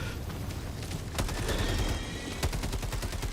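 Rapid bursts of video game gunfire crack repeatedly in quick succession, a steady machine-gun-like rattle with a few sharper shots standing out, loud and close with no talking over it.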